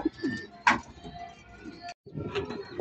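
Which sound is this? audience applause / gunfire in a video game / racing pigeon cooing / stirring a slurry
racing pigeon cooing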